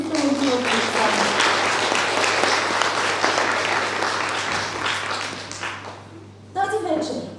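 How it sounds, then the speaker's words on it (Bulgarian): An audience at a school literary evening applauds loudly and continuously for several seconds, the clapping fading out before a voice begins speaking near the end. "Аплодисменти за талантливата Александра!"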